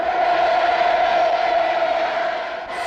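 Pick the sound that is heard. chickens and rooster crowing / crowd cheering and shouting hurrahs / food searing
crowd cheering and shouting hurrahs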